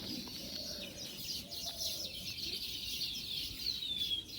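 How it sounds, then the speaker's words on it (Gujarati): Sparrows chirp from above a porch swing where they are building nests, a steady high twittering that carries on throughout against a faint outdoor background, with no one talking. "ઉપર ચકલીઓ અવાજ કરે છે"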